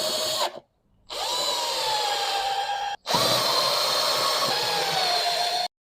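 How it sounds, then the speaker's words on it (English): A power drill whirs in steady bursts while driving mounting screws, two long high-pitched runs separated by brief pauses, loud and close. "finishing off with a drill"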